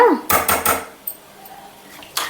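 Mustard seeds and cumin splutter in hot oil while tempering for a Telugu jujube (regi pandu) chutney: a few sharp, close pops cluster early, then scattered faint crackles and one last pop.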